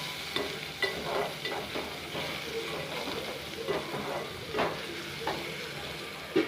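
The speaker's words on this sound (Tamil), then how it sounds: "ஒரு ரெண்டு நிமிஷத்துக்கு தக்காளி நல்லா வேகட்டும்" Tomatoes frying in a pan for egg masala, a quiet sizzle with soft intermittent stirring scrapes and taps, faint and close.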